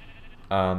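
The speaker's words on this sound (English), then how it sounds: "Yes, there's a sheep right there" A sheep bleats once in Minecraft, loud and close, with a steady harmonic cry cutting in after a quieter stretch of background noise.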